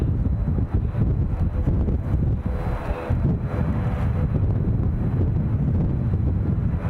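Strong wind buffets the microphone at Edinburgh Airport, a loud, steady low roar that stays unbroken and fills the whole stretch, with no voices.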